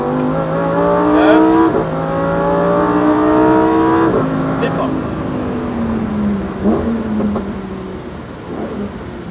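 A Lamborghini Huracan STO on a track revs up through several rising gear pulls, its loud engine howl stepping down at each shift before easing off toward the end, with voices faintly present.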